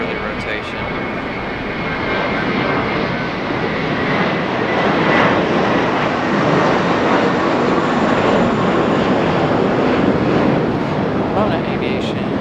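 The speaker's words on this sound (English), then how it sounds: "Thank you, A321. American Airlines, early rotation." An American Airlines Airbus A321 takes off at Raleigh-Durham airport, its engines a loud, sustained broadband roar that holds steady throughout, with talking over it.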